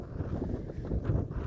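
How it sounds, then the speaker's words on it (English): Wind buffets a microphone outdoors, producing a low, rumbling, uneven roar with gusty swells that persists throughout the short stretch without speech. "I'm afraid the wind's going to blow you guys over. It's windy."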